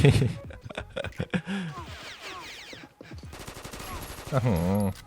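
Gunshots in the mobile first-person shooter Combat Master, bursts of rapid fire mixed under someone talking over the play, with a louder, denser volley toward the end.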